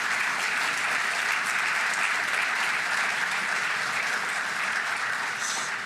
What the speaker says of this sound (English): Let's give a round of applause to all the sponsors.